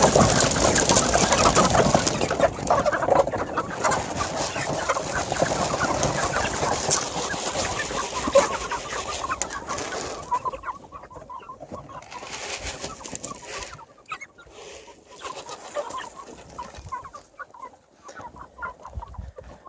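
Meat chickens about two weeks from processing cluck and chatter together in a homestead coop before feeding, a dense flock chorus that fills the first half and thins to scattered, softer calls later, with no talking.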